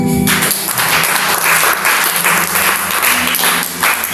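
A church congregation at a Tuesday worship service bursts into sustained applause and cheering, dense clapping filling the whole stretch at full, steady loudness with a faint voice briefly underneath at the start.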